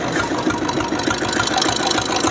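A 1983 diesel Royal Enfield Bullet motorcycle with self start idles close by, a steady, loud low chugging thump with a rapid even beat running unbroken throughout.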